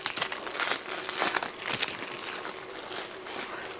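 Cellophane packaging crinkles and crackles close up while a plant is unboxed, in irregular bursts of crisp rustling that continue throughout.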